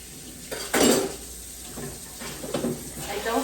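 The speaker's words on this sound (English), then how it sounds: "I don't ever like to leave dishes in my sink that haven't been rinsed off." Dishes and cutlery clatter in a home kitchen sink as they are rinsed, with a sharp clink near the start followed by softer knocks and running-water hiss.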